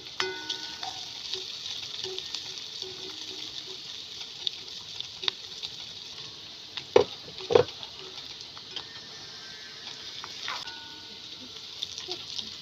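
Cumin and fenugreek powder frying in hot oil for coconut rasam, a steady soft sizzle with faint stirring and a couple of sharp utensil clicks near the pan.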